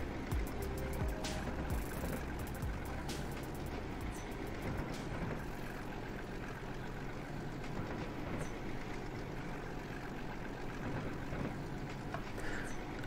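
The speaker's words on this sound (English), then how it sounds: "I'm just going to be quiet for a little minute just so you can hear the engine" A low, steady diesel engine rumble from a Class 37 locomotive in the video game Transport Fever drones on continuously with faint rattling and clicking, no voices, at a fairly quiet level throughout.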